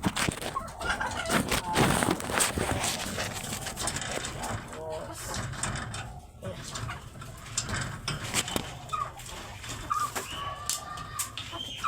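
Chickens cluck and call in a breeder pen, a dense, close chorus of fowl sounds running throughout, with a person talking over them.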